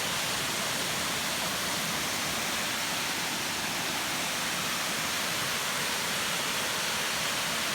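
Upper waterfall at Lonnavale Falls (Timbs Falls), Tasmania: a dense, continuous rushing roar of falling water, close and steady with no breaks.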